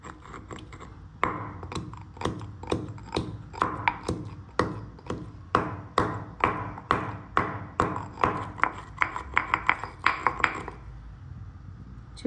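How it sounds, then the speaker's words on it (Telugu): Cumin seeds being pounded for a spicy egg dish, a steady series of about twenty sharp, evenly spaced hard knocks close by, ringing slightly and speeding up a little toward the end. "జీలకర్ర వేసాక దీన్ని బాగా నజ్జగొట్టుకుందామండి."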